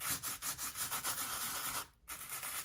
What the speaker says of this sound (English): now that everything is dry, we can start scraping off the salt here